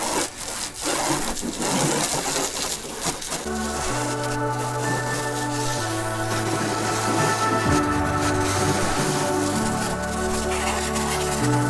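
Coarse sandpaper-style rubbing with finer grit on a 1999 Suzuki DR 350 motorcycle gas tank, with steady scratchy strokes throughout under a layer of sustained tonal sound.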